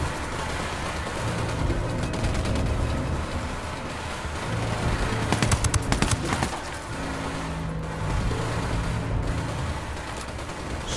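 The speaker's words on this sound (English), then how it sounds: "I'm opening fire on these shitheads." Sustained automatic gunfire in the video game Ghost Recon Wildlands, rapid bursts and volleys crackling over a steady engine rumble, loud and close, with a brief heavier burst in the middle.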